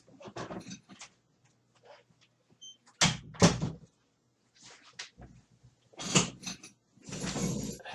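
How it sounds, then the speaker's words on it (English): A door is shut indoors with a few knocks and a firm thump, among scattered handling noises and quiet gaps, all fairly close. "I had to close the door"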